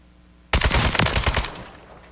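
Rapid automatic gunfire in the video game PSO2: NGS erupts suddenly as a loud, close burst of about a second of evenly spaced shots, then fades into a decaying echo.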